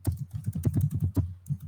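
Rapid typing on a computer keyboard, a quick irregular run of soft plastic key clacks heard up close with short pauses between bursts, no voices.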